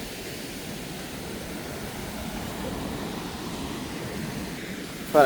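Sea waves on the Pokkanai coast at Mullaitivu make a steady, broad wash of surf that holds evenly throughout, with no voices and a brief bump of noise at the very end.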